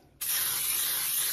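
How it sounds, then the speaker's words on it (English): A can of baking spray fires into a pan in one continuous close, loud hiss that starts abruptly and holds steady to the end, with no talking. "spray it with some baking spray."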